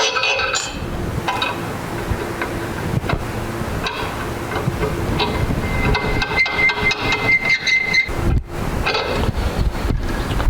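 Metallic clanks and ratcheting knocks from a C&T Powersports spring compressor being tightened in a vise, irregular sharp hits of metal on metal over a windy, rumbling background.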